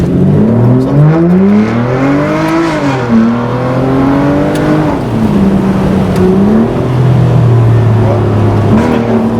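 Aston Martin DB9 Volante Mansory engine accelerating hard through several gears, a loud close growl rising in pitch, dropping at each shift and climbing again, with brief voices over it.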